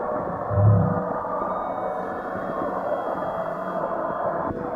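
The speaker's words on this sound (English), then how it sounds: "So, 1 gray whale." A gray whale call in the Nancy Drew game Danger on Deception Island: a deep, low moan swells early, then fades into a steady underwater rumble that carries on to the end.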